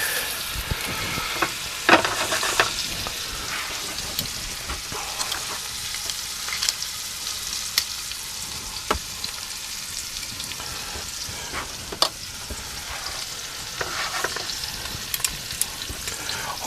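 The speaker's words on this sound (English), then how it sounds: "put in your steak." Walmart Wagyu steak searing in a hot pan for steak au poivre, a steady close crackling sizzle with scattered sharp pops throughout, no talking.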